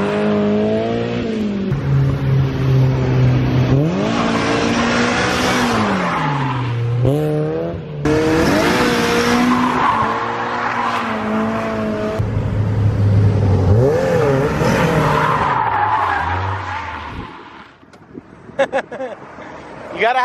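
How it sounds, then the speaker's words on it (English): BMW E36 drifting with loud engine revving that rises and falls repeatedly, joined by tire squeal, close and continuous before dropping off near the end. "We're gonna go do some drifty drifts."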